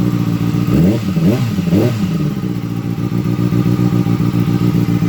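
A cold Kawasaki ZX6R sport bike engine idles steadily after a cam chain tensioner reset, with a few quick throttle blips early on, then settling into an even, close mechanical thrum with light clatter.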